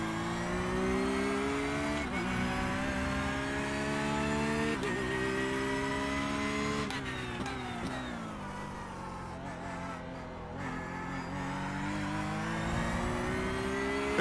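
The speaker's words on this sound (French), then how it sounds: "S'ouvrir un peu la Porsche." A Porsche race car engine in the iRacing sim holds a steady high drone. It rises and falls through gear changes and revs, with a brief dip mid-way, loud and continuous with no talk.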